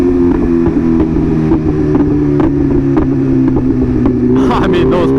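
A BMW M1000RR sport bike runs with a steady, close engine drone, and scattered sharp exhaust pops and crackles come through as it decelerates. Wind buffeting rises near the end.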